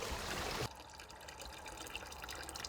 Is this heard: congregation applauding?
no